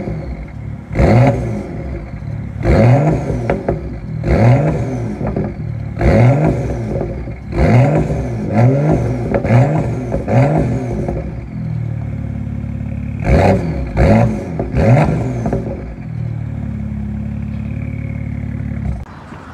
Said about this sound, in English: So we'll do a little start up of the car and a little quick drive.